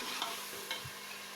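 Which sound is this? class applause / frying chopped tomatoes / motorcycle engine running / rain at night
frying chopped tomatoes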